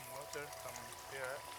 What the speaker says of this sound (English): That's the spring water.